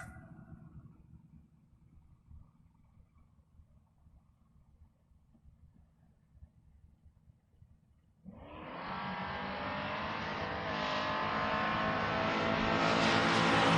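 A drag race car launches at full throttle after a low idle rumble, with the loud roar of racing engines building and sustained to the end, including a 1987 Ford Mustang at a door car drag race.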